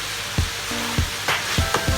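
Meat for Filipino bopis is added to a hot pan and sizzles loudly, with a steady frying hiss and several soft clunks and scrapes of stirring.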